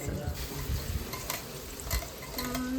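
Kharda chilli paste hits hot oil in a pan for kharda chicken, giving a low, continuous sizzle with occasional stirring scrapes, close and moderately quiet.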